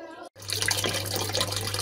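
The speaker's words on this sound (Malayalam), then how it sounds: "മെഷീനിൽ വെള്ളം നിറഞ്ഞു" A fully automatic washing machine fills with water, a steady close rush and splash running continuously after a brief pause, with a low constant hum beneath.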